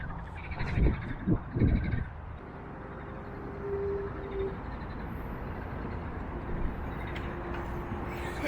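A few loud low frog croaks in quick succession early on, then a steady outdoor background with a faint distant hum, near Minsk, Belarus.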